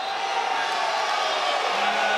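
Home fans at a college wrestling match between Virginia and NC State roar and call out together, a dense, continuous crowd din filling the arena.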